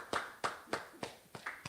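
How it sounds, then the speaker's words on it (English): A few isolated hand claps, about six sharp slaps spaced at even intervals, sound faint and close in an otherwise quiet room at a resident white coat ceremony, welcoming the CEO to the microphone. "let's welcome him to the mic with a round of applause."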